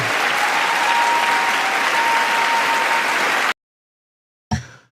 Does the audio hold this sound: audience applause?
yes